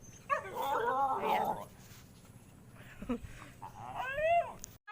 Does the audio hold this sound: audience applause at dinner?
no